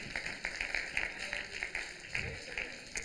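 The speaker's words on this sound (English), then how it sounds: "let's give him a hand clap of praise" A church congregation gives a hand clap of praise, clapping together in a steady, regular rhythm that sounds moderately distant and fairly soft.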